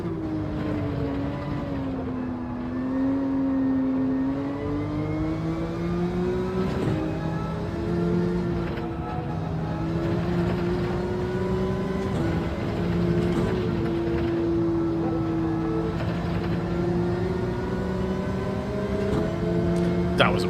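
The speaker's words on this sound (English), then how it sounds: "the noise off that BRZ" Subaru BRZ engine in Gran Turismo 7 on the Catalunya circuit, a steady droning engine note holding high revs with gear changes and pitch shifts as the car laps, continuous and prominent, with someone talking over it.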